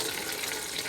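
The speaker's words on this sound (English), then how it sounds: "then I put filtered water in" Filtered water pours steadily into a bowl holding a few drops of grapefruit seed extract, a close, continuous splashing stream that runs for about a second with no talking.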